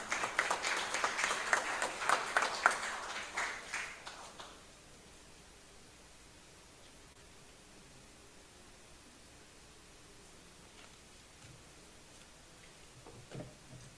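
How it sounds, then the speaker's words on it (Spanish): Applause from an audience at a literary tribute ceremony welcoming a speaker, a dense burst of clapping for about four seconds that fades out, leaving a quiet hall. "Con un fraterno aplauso, recibamos."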